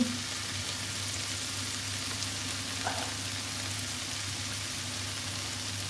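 Soy sauce going into a fish stir-fry in a pan, a steady low sizzle and crackle of frying throughout, fairly quiet and even with no voices.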